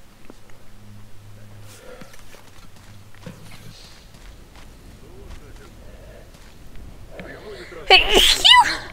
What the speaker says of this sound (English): I didn't mean to sneeze on you.